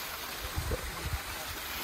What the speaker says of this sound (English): This seems to be running water though, and it's quite loud.